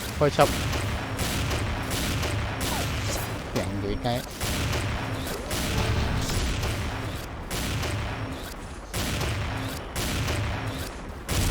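Sniper rifle shots go off in the online shooter XSHOT with the Bright Moon sniper, sharp repeated booms spread through a busy game mix while someone talks excitedly over them.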